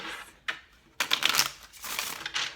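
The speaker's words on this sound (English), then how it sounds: "This will be our last shuffle for Scorpio for June." Tarot cards being shuffled by hand in a few close, crisp riffling bursts with brief pauses between them, no voices present.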